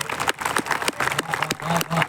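An audience at a Hindi kavi sammelan (poetry gathering) held during Holi claps in a short, dense burst of crowd applause, with a voice faintly present underneath.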